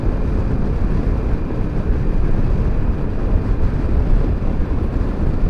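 A 2014 Suzuki DL1000 V-Strom motorcycle cruises in sixth gear at about 3,500 revs and 100 km/h, giving a steady, loud, low drone heavily blended with continuous wind roar, unbroken throughout.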